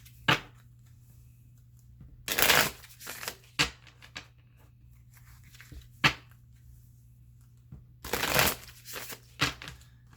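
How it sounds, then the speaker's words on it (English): Osho Zen Tarot cards shuffled by hand in short, scattered bursts of riffling and tapping, with quiet gaps and a low steady hum between them. "to open up your tarot reading today, I'm going to use the Osho Zen Tarot"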